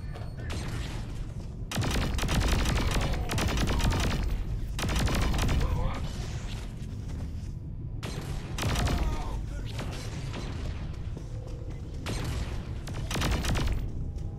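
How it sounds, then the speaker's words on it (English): Explosions and gunfire in the Saints Row IV video game, coming as dense bursts of booms and shots across the whole stretch, loud and near, with short lulls between volleys. "With all these explosions, either it's under attack or it's coming apart."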